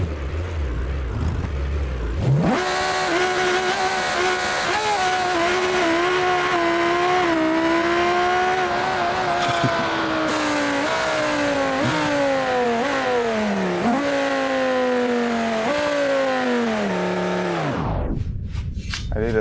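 An Audi A4 and a Lamborghini go head to head in a drag race, with loud, sustained engine roar that climbs through repeated gear shifts for about fifteen seconds before cutting off abruptly.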